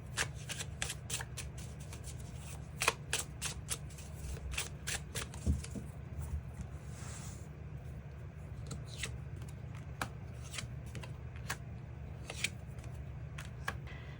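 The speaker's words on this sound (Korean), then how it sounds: "추가 카드 뽑아보도록 하겠습니다" Tarot cards riffled and shuffled by hand, a long run of quick papery flicks and snaps, close and fairly quiet, with soft handling sounds.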